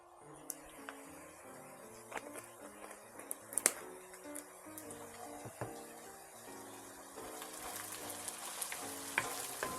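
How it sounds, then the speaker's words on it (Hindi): Asafoetida sizzles in hot ghee and oil with cumin for Punjabi rajma masala, a steady close crackle with scattered pops over about ten seconds, with faint music underneath. "इतना सा हींग डालूंगी।"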